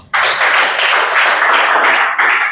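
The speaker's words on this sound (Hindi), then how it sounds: "जोरदार ताली मारो" Loud group clapping from a classroom of police exam students, a dense steady burst of many hands that starts abruptly and carries on evenly for a couple of seconds.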